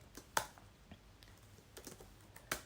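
Keys on a computer keyboard tapped out in a few sparse, quiet clicks while a C++ code comment is typed, with a sharper keystroke near the start and another near the end.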